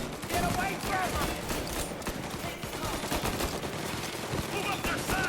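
Dense, rapid gunfire from multiple weapons crackles nonstop in a Mafia Definitive Edition shootout, with sharp bursts layered under shouting voices throughout.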